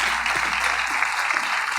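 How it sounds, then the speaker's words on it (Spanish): Brief burst of dense applause from a church congregation, steady and fairly close, filling the whole moment without a break. "Dale ese aplauso al Señor."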